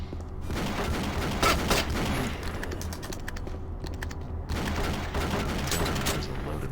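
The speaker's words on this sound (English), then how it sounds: "Who's shooting at me and where are they?" Gunfire in the video game Doom 3 comes as rapid bursts of sharp cracks in clusters, fairly close, over a steady low hum with brief quieter gaps between volleys.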